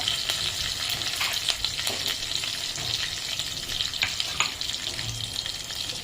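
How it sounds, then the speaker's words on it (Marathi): Ginger-garlic paste sizzling in hot oil in a kadhai while cooking a home-style Kolhapuri val birda curry, a steady loud crackling fry with occasional stirring scrapes and no voices. "आलं आणि लसूण याची पेस्ट टाकायची आहे"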